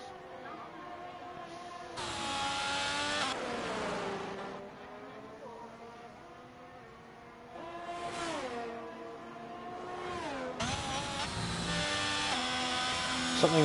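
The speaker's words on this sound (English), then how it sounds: "I thought I heard another car there." Race cars in an online racing game sweep past one after another, their engine notes rising and falling in pitch as they pass, with a steady engine drone and a voice talking over them throughout.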